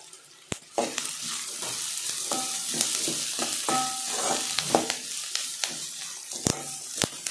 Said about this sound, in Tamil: நல்லா கண்ணாடி பதம் வர மாதிரி வதக்கி எடுத்துக்கலாம்